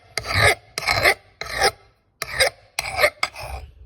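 An old Kentish axe head is sharpened with a hand file, producing six loud, close, rasping strokes in a steady rhythm with short pauses between them and no voices.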